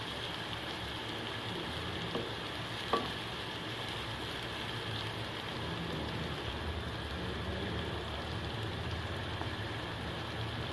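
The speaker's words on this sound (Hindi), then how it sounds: "प्याज को घी के साथ फ्राई करेंगे और हम इसे लाइट ब्राउन कलर देंगे।" Onions frying in hot ghee, a faint, steady low sizzle and bubbling hiss that continues evenly, with a couple of small clicks near the start.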